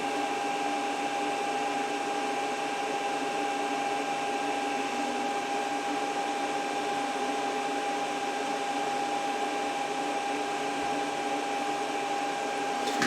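A Creality CR10S Pro 3D printer running auto bed leveling, a steady close mechanical hum with a constant high tone and fan-like whir, with no talking and no clear change in pace.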